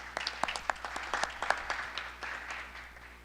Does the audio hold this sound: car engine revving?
no